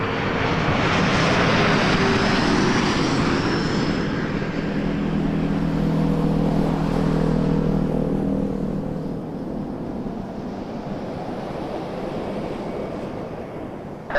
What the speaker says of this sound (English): we got Delta 2131 from Minneapolis on a 220